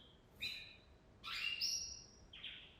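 Bird chirps in short bursts: a brief call, then a longer, brighter tweeting passage and a final quick chirp, fairly faint against a quiet background.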